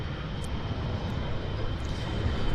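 An airliner roars past at Vancouver International Airport, a loud, steady, broadband rumble that builds slightly across the few seconds.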